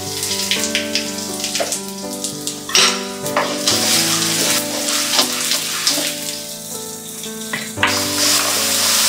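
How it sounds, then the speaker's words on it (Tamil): Mustard seeds, urad dal and dried chilies frying in hot oil, with a crackling, popping sizzle full of sharp spitting bursts over a steady hiss, loud and close, alongside faint tonal music with no talk. "இப்போ எண்ணெய் காஞ்சிச்சு. கடுகு உளுந்தம்பருப்பு போடுறோம், இப்போ வத்தல் போடுறோம்"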